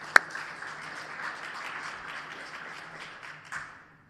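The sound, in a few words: audience applause for paper authors at an award presentation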